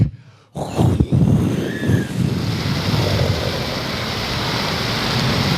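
A tropical thunderstorm on a hiking trail, with steady roaring wind and heavy pouring rain that build from a brief near-silence into a continuous, loud wash of noise with no voices.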